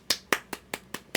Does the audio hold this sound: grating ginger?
no